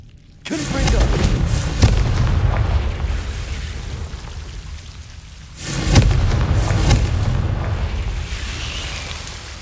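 Confringo blasting-spell explosions from Hogwarts Legacy erupt as two loud, rumbling booms a few seconds apart, each with a long roaring, crackling decay that fills the space between them.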